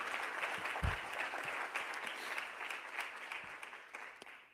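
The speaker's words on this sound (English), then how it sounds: "Let's give a round of applause to the Schomburg Center" Audience at an Afro-Latino panel event at the Schomburg Center gives a round of applause, heard as a soft, distant, steady patter of many hands that slowly tapers off toward the end.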